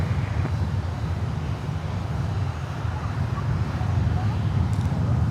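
Boeing 737-300 jet on the runway at Miami airport, a loud, continuous low engine roar and rumble filling the scene, heard steadily at a distance with faint background noise.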